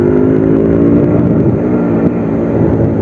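A Suzuki motorcycle, once seized and since repaired, runs steadily while ridden, its engine a loud, close, even drone with little change in pitch throughout.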